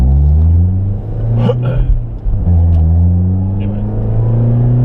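A 1998 Toyota Altezza drives along with a steady low engine rumble that rises and falls through gear changes, while someone speaks briefly over it.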